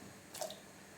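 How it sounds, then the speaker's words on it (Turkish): Chopped fresh broad beans drop into a pot of water for a traditional Turkish bean soup, giving one brief close wet plop with a small splash. "Doğradığım baklaları suyun içerisine bırakıyorum."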